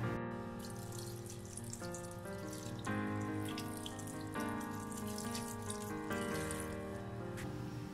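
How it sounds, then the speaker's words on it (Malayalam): Half a glass of water runs into a saucepan of ash gourd peel, a steady close pouring stream that shifts in pitch in several steps as the pan fills. "ഒരര ഗ്ലാസ് വെള്ളം കൂടി ഞാൻ ചേർക്കുകയാണ്."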